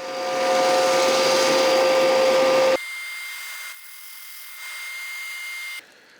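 Power sander working the ends of wooden toy parts for a tumble track: a loud, steady whirring drone for a few seconds that abruptly cuts off, leaving a quieter hum.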